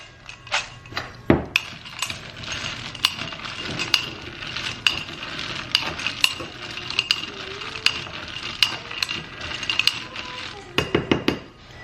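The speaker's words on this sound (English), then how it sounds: "we're just gonna try to coat our blueberries in the flour." Michigan blueberries are stirred to coat them in flour, with a spoon clinking against a bowl in irregular taps and scrapes, close and moderately loud, and occasional quiet speech.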